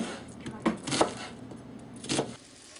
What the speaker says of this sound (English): we need to cut it in half lengthwise. And then we're going to cut it into wedges